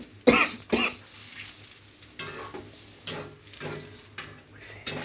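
Someone coughs two or three times close by in a kitchen while spices fry for a Bengali chicken dish with panch phoron, the coughs rising over a soft sizzle and occasional stirring.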